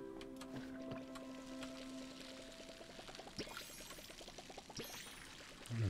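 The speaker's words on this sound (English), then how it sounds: "I should probably water my plants" Soft, quiet pouring water sounds as plants are watered in the video game Palia, a gentle trickling and splashing that runs under faint tonal game music.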